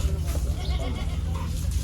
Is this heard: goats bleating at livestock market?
yes